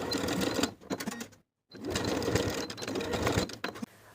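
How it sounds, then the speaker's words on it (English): Sewing machine basting elastic along the ends of a summer jumpsuit piece, running in steady close stitching bursts with a brief stop partway through. "Once you're happy with the fit, baste the elastic in place along both ends."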